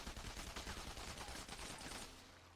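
Rapid automatic gunfire in a shooter video game, dense continuous bursts of shots that are steady and fairly faint, then trailing off with a low hum near the end.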